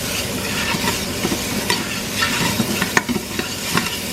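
Onions going into a pan of hot oil with spices for bunny chow, sizzling loudly and close up, with repeated scraping stirs and small knocks throughout.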